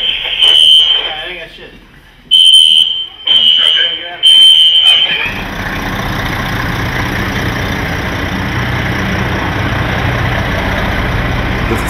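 A building fire alarm sounds in repeated loud electronic bursts with short gaps during a Washington DC fire response, then gives way to a steady roar of engine or fan noise.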